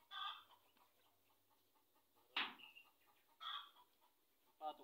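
Farm chickens clucking at a rural bamboo fencing site, a few separate bursts of clucks, faint and at a distance, with quiet between them.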